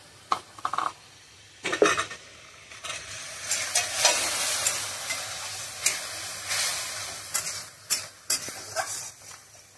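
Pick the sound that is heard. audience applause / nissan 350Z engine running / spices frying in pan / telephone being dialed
spices frying in pan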